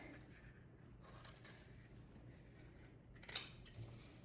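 Scissors snip through peel-and-stick felt while cutting out a sherpa ghost shape, a faint scraping run of cuts ending in one sharper, louder snip near the end, with no talking.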